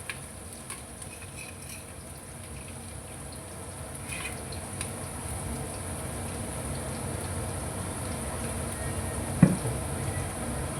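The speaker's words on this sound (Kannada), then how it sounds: "ಎರಡು ಬೌಲು ಈರುಳ್ಳಿ ಕಟ್ ಮಾಡಿ ಇಟ್ಕೊಂಡು ಒಗ್ಗರಣೆಗೆ ಹಾಕಿ ಸ್ವಲ್ಪ ಜಾಸ್ತಿನೇ ಹಾಕಿ" Chopped onions fry in a generous amount of hot seasoning oil for chicken biryani, giving a steady, even sizzle throughout with a single sharp clink near the end.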